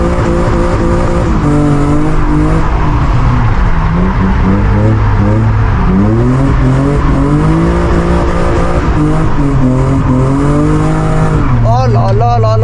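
A BMW E36 drifts on a track at a drift event. Its engine wails and swoops loudly through rising and falling revs, with tire squeal running through most of the stretch and a brief drop in revs near the end.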